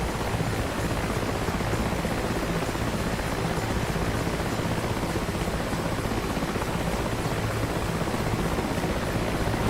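Dense, steady rotor and turbine roar of a helicopter in the DCS World combat flight simulator, such as an Mi-8, continuous and loud throughout without any break, with no talking.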